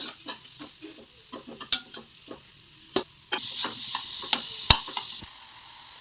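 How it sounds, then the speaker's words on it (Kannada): Carrots frying and being stirred in a pan with onions, a soft sizzle running under clinking and scraping stir sounds, the sizzle growing louder partway through. "ಅದನ್ನ ಫ್ರೈ ಮಾಡಿ ನೆಕ್ಸ್ಟ್ ಕ್ಯಾರೆಟ್ ಹಾಕೋತಾ ಇದ್ದಾರೆ ಅದನ್ನು ಫ್ರೈ ಮಾಡ್ಕೋಬೇಕು"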